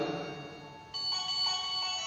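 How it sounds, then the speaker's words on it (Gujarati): A phone ringtone plays as a steady electronic melody of bright repeated tones, clear and moderately loud, with no talking over it. "તો આ રીતે રિંગ વાગી છે"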